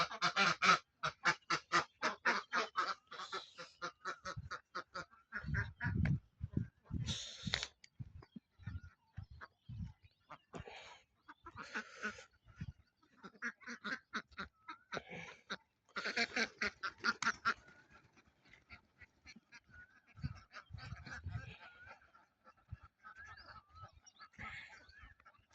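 Ducks at a riverside duck farm give loud, rapid runs of honking quacks in bursts, several birds calling together, then pausing before starting up again, close by with no talk.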